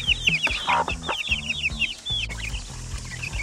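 Several chickens and chicks on a New Zealand lifestyle block cluck and chirp busily up close, a steady chorus of short overlapping calls with no talking.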